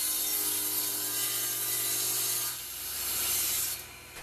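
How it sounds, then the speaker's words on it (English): A table saw cuts away wood against the fence in a close, steady grinding and rasping rush that dips briefly before fading out. "set the fence on the table saw so that the blade will cut away exactly that much"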